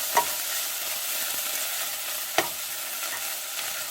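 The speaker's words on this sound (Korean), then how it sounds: "이렇게 볶아주는데요." Dried pollock stir-fried in a pot for Korean pollock soup gives a steady soft sizzle with a couple of sharp clinks as it's stirred, moderately close and with no voices.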